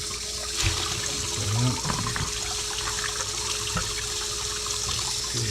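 Water runs and splashes over tumbled rocks being rinsed, a steady gushing stream with a few clunks and sloshing bursts, close by and without talk.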